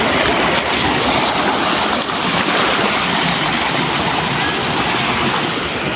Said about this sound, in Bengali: দেখেন পানির শব্দ কীরকম, এই যে এই জায়গাটা।